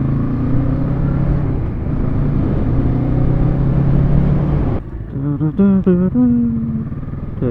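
A Kawasaki Z650 motorcycle on the road gives a loud, steady engine drone mixed with wind rush, then breaks into rising and falling revving tones as it changes speed, heard from the rider's position.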